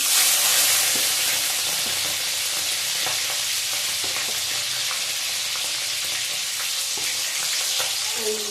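Prawns fry in hot oil in a pan, giving a continuous loud hiss and sizzle with scattered small pops and spatters that stay steady from start to finish, with no talking.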